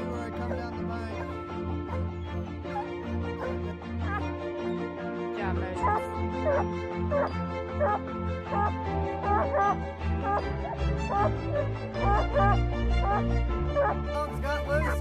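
Hunting hounds bark and bay repeatedly in a loud, continuous chorus, with yips and whines mixed in and a low engine-like rumble underneath.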